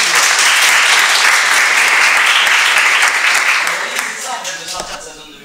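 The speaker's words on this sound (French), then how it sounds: "On peut les applaudir." Audience applauding at an indoor gathering, a loud, dense burst of clapping from a sizable crowd close by that holds steady, then tapers off toward the end.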